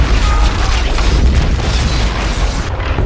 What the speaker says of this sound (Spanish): La explosión es real, palpable, inmensa.